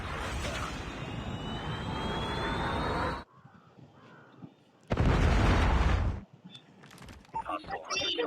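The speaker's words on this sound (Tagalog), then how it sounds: "Friendly predator missile inbound." A predator missile strike in a first-person shooter video game: two loud, roaring blasts of noise separated by a short quieter stretch, ending with scattered crackles and clicks.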